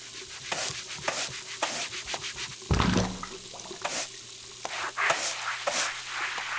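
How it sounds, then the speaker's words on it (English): Someone scrubs a bathroom floor in repeated short, rough brushing strokes, with one heavier knock partway through, close and fairly loud. "brushing up the hair, scrubbing the floor, and so on"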